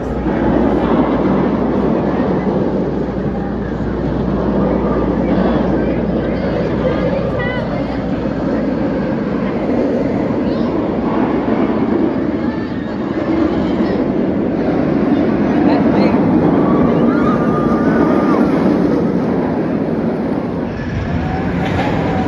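Batman The Ride roller coaster running at Six Flags Over Texas, a loud, steady rumble and clatter that lasts throughout, with voices mixed into the din.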